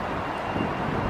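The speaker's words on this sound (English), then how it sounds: "It's very windy today." Strong gusting wind buffets the microphone at a demolition site where a Las Vegas theater once stood, a steady broadband roar filling the clip without letup or voices.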